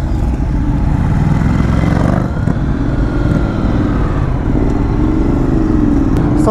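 Three Ducati motorcycles pull away together, a loud, continuous engine roar close by with dense low rumble and rising revs, no voices over it.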